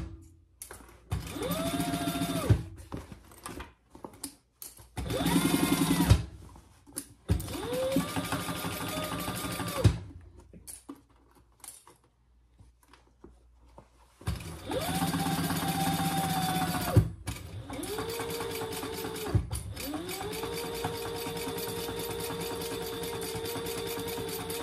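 A sewing machine stitches a Sheena Hobo bag in several bursts of steady mechanical whirring, close and fairly loud, stopping and restarting with short pauses between runs and a longer quiet gap midway.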